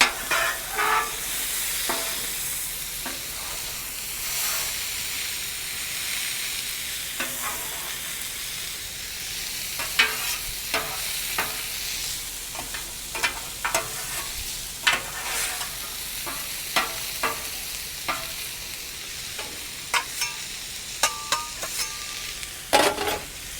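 Peas and carrots sizzle and fry on a Weber Slate flat-top griddle, a steady hiss broken by sharp scraping clicks of a spatula moving them across the surface, with no voices.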